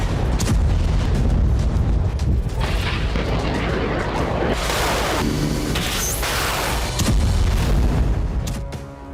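Heavy booms and rumbling blasts from Burkan missile strikes on Israeli cities and military sites roll on continuously and loudly, with dense crackling impacts and no talk.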